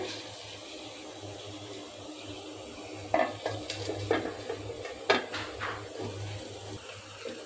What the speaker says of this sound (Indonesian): Setelah air mendidih, kita masukkan kentangnya.